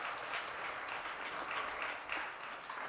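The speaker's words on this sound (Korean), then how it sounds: "다시 한 번 더 수고에다 박수 한번 보내겠습니다." A congregation claps through a church service, a steady, fairly soft round of applause filling the room throughout.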